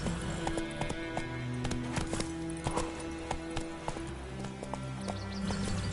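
Roach the horse gallops in Witcher 3, steady clip-clop hoofbeats close and loud over game music, with a brief neigh.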